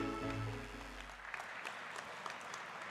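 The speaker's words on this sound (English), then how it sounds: "let's put our hands together and welcome with a big round of applause, Madam Rupa Ganguly ji." Crowd applause at a student parliament event welcoming a speaker onto the stage, a dense steady clatter of clapping that rises over a faint fading tone and holds for about three seconds.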